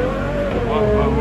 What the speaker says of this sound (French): Surtout Valarc qui va s'élancer dans quelques secondes avec cette Ferrari Monza SP2.